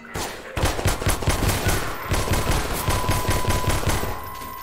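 Rapid gunfire in the Half-Life 2 video game: a loud, close automatic burst of evenly spaced shots lasting about four seconds, with a steady ringing tone underneath.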